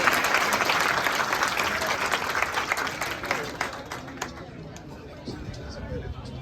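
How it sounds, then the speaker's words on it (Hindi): Audience applause for teachers at an honour ceremony for newly selected Bihar Police recruits, loud dense clapping from a crowd that gradually thins and fades, with chatter and a voice mixed in. "तो जोरदार तालियां होनी चाहिए आपके गुरु के लिए।"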